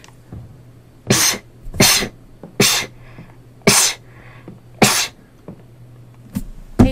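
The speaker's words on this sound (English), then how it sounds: "I think I'm gonna sneeze." Several loud, close sneezes, about six in all, burst out at irregular intervals over a steady low hum, with no talking.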